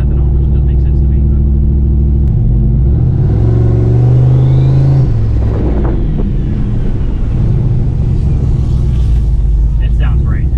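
A turbocharged Pontiac G8 GT running on ethanol-blended fuel revs up loudly near the microphone, a deep engine rumble rising to a peak and falling back to a steady idle, with wind buffeting throughout.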